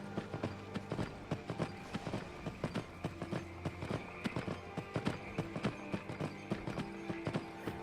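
In the Skyrim VR game, a horse crosses a bridge with a rhythmic, moderately close clip-clop of hooves, the regular beats running steadily under a background of game ambience.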